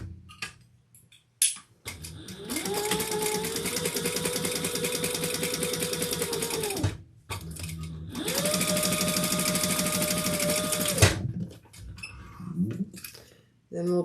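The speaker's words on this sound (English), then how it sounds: "we're just going to sew across the top at the seam allowance in the pattern" Close, loud sewing machine runs stitching across the top of a sling pack's slip pocket, two steady runs of about five and three seconds with a rising and falling motor whine, with handling clicks between and at the ends.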